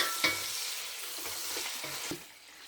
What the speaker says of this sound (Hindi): और अब हम इसे हल्का सा भून लेते हैं ताकि हमारे जो तमाम मसाले हैं वो हमारे गोश्त के साथ अच्छे से